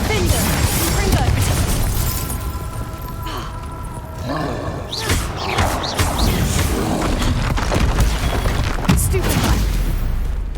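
Confringo explosive spells cast in Hogwarts Legacy, a string of loud booms, bursts and crashes in ongoing combat, mixed with a player's voice and other game sounds.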